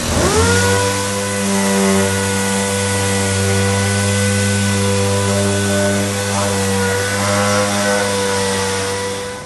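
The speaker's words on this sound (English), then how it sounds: "And then we sand with P120." A power sander works with P120 sandpaper on a repair surface, giving a loud, steady motor whine with a strong droning hum that runs continuously and close, with no talking.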